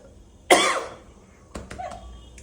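A single sharp cough from a person with a lingering illness, loud and close, followed by a quieter throat-clearing sound, recorded in a quiet home in the evening.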